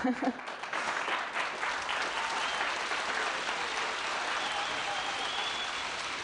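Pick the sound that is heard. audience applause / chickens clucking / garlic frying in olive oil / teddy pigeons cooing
audience applause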